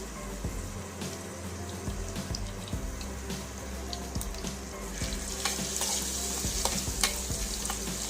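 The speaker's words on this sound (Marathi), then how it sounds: "हे पहा, मी लसूण टाकत आहे। लसूण पण छान परतवून घ्या।" Garlic frying in hot oil with cumin and mustard seeds, a continuous sizzle with spoon scrapes and stirring knocks against the pan, steady and close.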